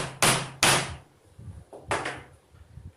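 Three heavy mallet knocks on wood, pressing spacers onto 18650 battery cells, two close together and one after a short gap, each with a hollow, resonant thud.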